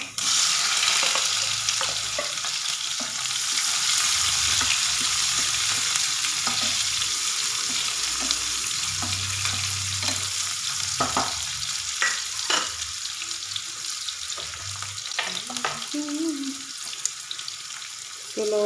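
Onion frying in a pan with whole garlic cloves for a bottle gourd dish: a sustained loud sizzle runs throughout, broken by repeated stirring scrapes and clinks of a spoon against the pan, with brief low murmurs of speech.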